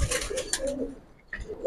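Giribaz pigeons of the Palla line cooing in a loft, soft throaty coos repeating close by, with light rustling between calls.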